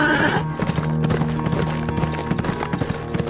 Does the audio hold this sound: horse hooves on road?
yes